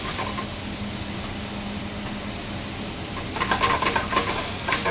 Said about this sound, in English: Let it saute a little bit.